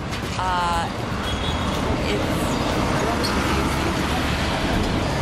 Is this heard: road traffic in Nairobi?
yes